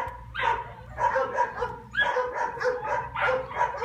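A dog whimpers and yips in repeated short bursts, close by, in a restless rhythm with brief pauses between cries.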